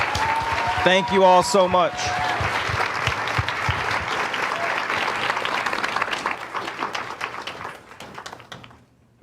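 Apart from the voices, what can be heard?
audience applause at a live event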